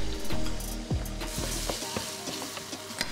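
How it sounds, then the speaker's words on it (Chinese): Beaten eggs fry in hot oil in a wok with a steady sizzle, broken by a few sharp scrapes and clinks as a spatula stirs and turns them, heard up close with no talk. "鸡蛋打散下油锅炒炒"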